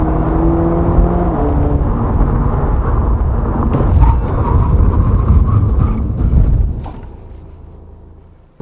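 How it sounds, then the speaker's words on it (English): A 2021 Cadillac CT4 with Brembo brakes speeds up and then brakes hard in a test, a loud close engine and road roar that swells and then fades away as the car stops. "why don't we check out the braking performance of this 2021 Cadillac CT4 then"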